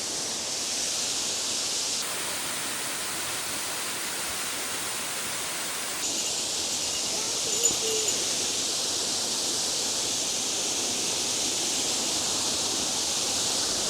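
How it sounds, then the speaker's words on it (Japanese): Takimata waterfall on a forested mountain trail north of Kyoto, a steady broadband rush of falling water heard close and unbroken, with the roar brightening midway and a brief faint sound near the end. "はい、滝俣の滝です"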